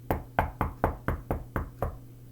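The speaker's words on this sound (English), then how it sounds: "She heard a soft knocking sound." Eight soft, evenly spaced knocks on a door, steady and close, each a dull thud with a low hum underneath.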